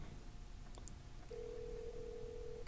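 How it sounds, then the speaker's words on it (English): A Puma smartwatch rings for an incoming phone call with a steady, sustained electronic tone that starts partway through and holds to the end, fairly faint over a quiet indoor background. "Okay, it's ringing."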